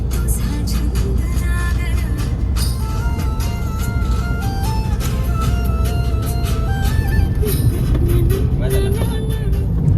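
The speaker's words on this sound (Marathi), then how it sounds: "रस्ता बराचसा चांगला आलाय, मस्त मजा येते गाडी चालवायला." A car drives on the road through the Kashedi ghat in the Konkan, its steady engine and tyre rumble loud and continuous throughout, with a few rising tonal whines from the drivetrain.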